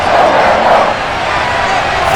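A sold-out stadium crowd in Madden NFL 22 roars through a Patriots versus Buccaneers game introduction, a dense, loud, continuous wash of cheering with no clear voices standing out.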